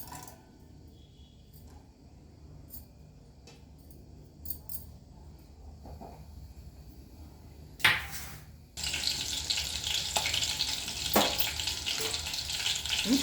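Cumin, mustard seeds and green chili frying in oil for a Telugu-style carrot fry, a steady crackling sizzle that starts soft, then surges louder and denser about two-thirds of the way through, with no voices.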